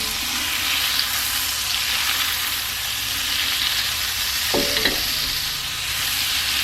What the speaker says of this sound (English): then I'm going to add my butter.